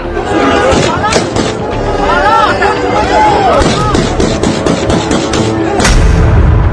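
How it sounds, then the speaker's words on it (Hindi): Gunfire in Taliban footage: repeated sharp shots and booming bursts ring out loudly amid crowd babble and shouting voices, with a heavy final blast near the end. "क्या ये तस्वीरें देखी, गोलियों की आवाज सुनी?"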